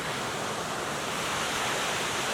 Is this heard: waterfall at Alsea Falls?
yes